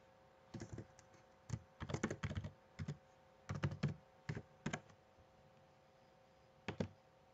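Typing on a computer keyboard while entering a username and password: quick bursts of close, light key clicks separated by short pauses, ending with a single isolated tap.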